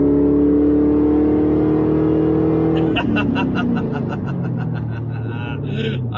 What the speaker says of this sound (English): Rev up, baby!